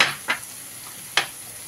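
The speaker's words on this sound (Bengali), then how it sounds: "আদা রসুন বাটাটা দিয়ে আমি খুব ভালো করে মশলাটা কষিয়ে নেব।" Ginger and garlic paste frying in oil in a pan for a mackerel curry gives a soft, steady sizzle, broken twice by quick scraping strokes of a spatula.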